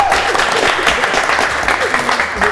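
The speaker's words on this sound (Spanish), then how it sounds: "despedimos con un fuerte aplauso, Gabriel." A television studio audience claps steadily and enthusiastically, a dense wash of applause with a voice faintly audible underneath.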